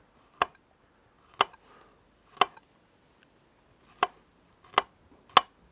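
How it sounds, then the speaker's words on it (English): Garlic cloves are sliced on a board with a knife, six sharp, separate chops spaced about a second apart, close and crisp against near silence. "a couple of garlic cloves. I'd say finely sliced."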